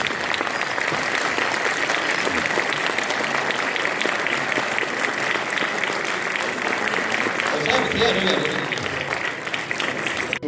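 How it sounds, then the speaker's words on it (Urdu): A standing audience at a lovebird seminar in Peshawar claps in a dense, steady wave of applause that runs unbroken and loud throughout. "سب کھڑے ہو کر تالیاں ڈاکٹر سمیع صاحب کے لیے"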